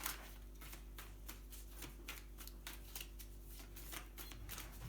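Oracle cards from a light-healers deck shuffled by hand, a steady run of soft riffling flutters and slaps repeating close up with no voices over them.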